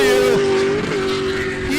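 A BMW E36 drift car sliding through a corner at a drift event, its engine droning loud and close alongside a sustained tire squeal, without speech.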